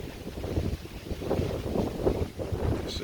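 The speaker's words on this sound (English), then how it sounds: "It's windy up here." Steady wind buffets the microphone on a high outdoor walkway at Ocean Winds Villas on Seabrook Island, South Carolina, a continuous low rushing roar that stays loud and unbroken from start to finish.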